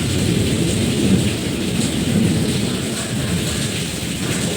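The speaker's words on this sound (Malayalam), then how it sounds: "കേട്ടാടാ ആ മഴയുടെ ശബ്ദം?" Steady evening rain pours down with rolling thunder rumbling beneath it, a continuous loud wash of drops with no voices.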